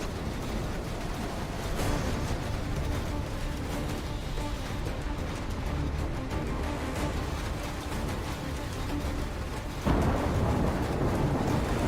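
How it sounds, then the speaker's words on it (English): Superstorm in Call of Duty Black Ops III: loud, dense rain roar with rolling thunder, a sustained wash that swells sharply near the end. "Incoming superstorm too strong. Storm's only gonna get worse!"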